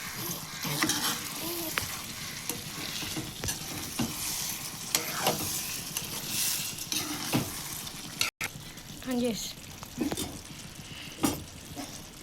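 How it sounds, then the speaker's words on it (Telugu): A brinjal and chana dal masala curry is stirred in a pan, with a spoon scraping and clinking against the metal in repeated strokes over a steady soft sizzle. "ఒకసారి అయితే తిప్పుకుందాము."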